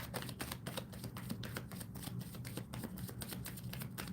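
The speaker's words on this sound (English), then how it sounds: "Shuffling for Montaigne." Tarot cards being shuffled during a live reading, a quick run of soft papery riffling taps in an irregular rhythm, close and fairly quiet, with no talking.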